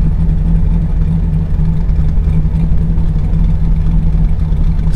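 A truck's V8-type engine idles steadily after a cam swap while timing is tuned, a continuous close low rumble that holds even with a faint settling throughout.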